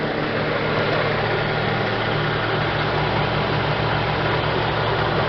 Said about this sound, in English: you just want to start the engine and check on the bottom